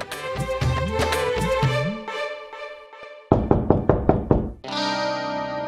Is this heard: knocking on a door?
yes